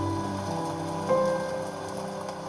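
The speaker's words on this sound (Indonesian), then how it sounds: "Suara hujannya bener-bener real gitu." Recorded rain playing through the cabin speakers of a Hyundai IONIQ 6 electric sedan, a steady soft wash of falling drops that holds evenly for a couple of seconds with no one talking.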